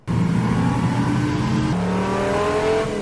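Race car engine revving hard on a circuit, a loud, close, sustained roar that climbs in pitch and then shifts gear partway through.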